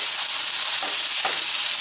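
Ground beef frying in a pan, a loud, dense, continuous sizzle with a couple of soft stirring scrapes, close up and with no talking.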